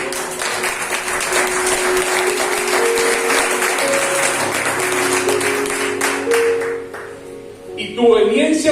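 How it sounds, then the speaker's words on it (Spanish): A church congregation claps together in a sustained burst of applause for several seconds, with music and voices underneath, fading near the end as a voice resumes over a louder musical swell. "Denle un aplauso al Señor."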